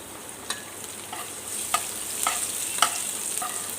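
Chopped garlic fries in oil in a pan after brinjal, a continuous soft sizzle with a few light scrapes of stirring, close and fairly quiet, no talking.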